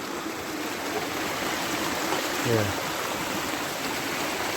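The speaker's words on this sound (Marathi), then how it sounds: "पाणी हे बघा कसा येतो आवाज पाण्याचा" Water rushes continuously in a flowing stream beside rice paddy fields in Konkan, a dense steady gurgle close by, with a brief voice cutting in near the middle.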